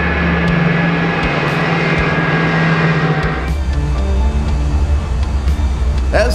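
A jet airplane taxiing back to parking in a virtual air show flight simulator, a loud continuous engine drone with a whining tone that shifts in pitch midway, someone narrating over it.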